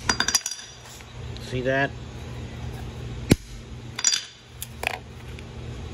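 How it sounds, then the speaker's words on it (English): A metal scraper whacks 18650 lithium cells loose from Pegatron modem battery packs, giving several sharp clinks and one loud strike up close, with someone talking between hits. "You take this tool, which is the scraper, then you just whack them here."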